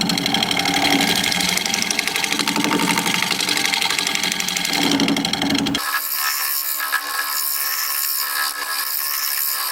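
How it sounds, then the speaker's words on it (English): A negative rake scraper cuts inside a Pfitzer juniper bowl spinning on a lathe, giving a loud buzzing, chattering rasp that cuts off abruptly partway, leaving the lathe's hum and motor whine. "I'm gonna try my negative rake scraper in here."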